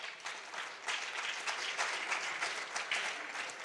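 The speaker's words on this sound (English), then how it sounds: "And another big round of applause." A crowd applauds quiz contestants at a national junior science and maths championship quarter-final, with steady, dense clapping that stays even and sustained throughout, with no voices over it.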